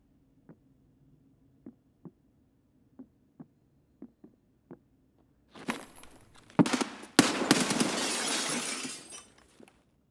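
Gunfire in the video game Escape from Tarkov, on the Labs map. A run of soft, evenly spaced ticks leads into several loud, sharp bursts of shots, with a harsh crackling tail that fades out at the end.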